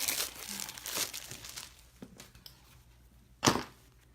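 A package of pre-scored cards being torn open, with close crinkling and rustling of plastic wrap in irregular bursts, quieting midway before one sharp crackle near the end.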